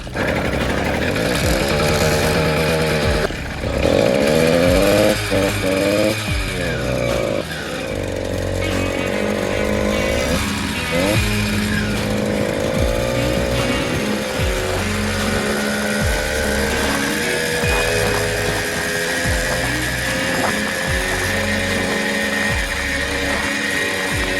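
A Diamondback Motors motorized bicycle engine runs with a loud, buzzy two-stroke whine that surges and dips through the ride, close and steady, with a brief voice under it.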